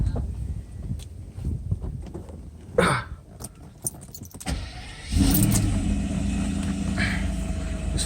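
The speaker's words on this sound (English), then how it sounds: "This is cold start." A Mercedes S600 with a repaired throttle and e-gas module fires up from cold with a short crank, then settles into a loud, steady idle close by after a few quiet clicks and handling noises.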